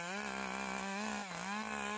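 Echo CS2511 chainsaw engine running steadily at high revs, a continuous loud buzzing drone with a slight dip in pitch midway, close by and alone.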